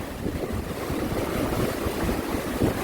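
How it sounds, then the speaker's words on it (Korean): Rough sea waves building at a harbour, a steady broadband wash of surf with wind rumble, continuous and fairly loud with no voices. "파도만 점점 높아지고"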